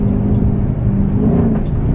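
A HEMI-engined Chrysler 300 running straight pipes with all mufflers removed gives a loud, deep exhaust rumble that holds steady and close, with no talk over it.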